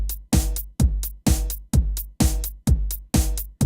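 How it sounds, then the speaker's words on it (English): Layered drum-machine percussion for a progressive house track: punchy kick-like hits with crisp hi-hats and shaker on top, repeating in a tight, even groove of about eight strikes over a few seconds, loud and dry with no voices. "And you hear the way the hi-hats interact."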